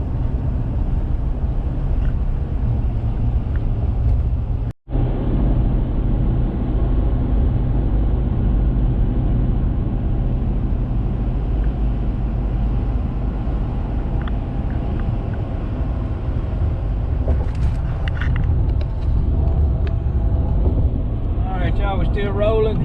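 A car cruises down a highway through Mississippi near Madison and Jackson, with a steady, continuous rumble of road and engine noise that breaks off for an instant partway through.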